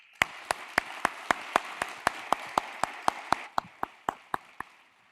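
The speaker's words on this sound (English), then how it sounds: "round of applause." Sparse, evenly spaced hand claps at a clean-energy data conference, sounding like a small audience thanking a panel, about twenty distinct claps in a steady rhythm that thins out toward the end.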